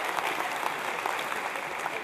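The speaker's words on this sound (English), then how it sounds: "That's a weird clap." An audience at a university lecture gives a short burst of steady applause, a dense wash of many hands clapping at an even level for a couple of seconds.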